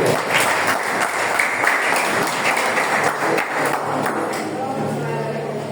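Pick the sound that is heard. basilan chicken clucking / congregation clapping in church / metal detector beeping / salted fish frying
congregation clapping in church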